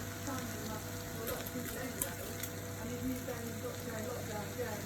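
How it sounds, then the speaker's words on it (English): Rice frying in a pan, a steady soft sizzle and crackle with a constant background hum, fairly faint and even throughout, with no talking. "we're gonna fry this rice up."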